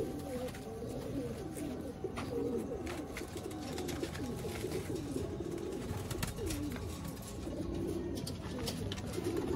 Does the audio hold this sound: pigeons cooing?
yes